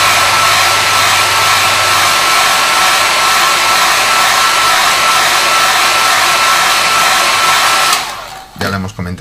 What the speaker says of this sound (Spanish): Secador.